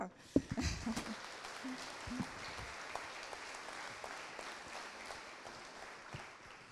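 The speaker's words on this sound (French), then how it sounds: "je pense que vous pouvez l'applaudir" Audience applause at a pedagogical innovation day welcome at an agricultural school, faint and distant, with a few close sharp claps and brief murmurs early on before a thinner patter continues.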